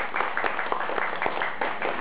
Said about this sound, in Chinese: 所以我们应该给我们阿伯一个最热烈的掌声哦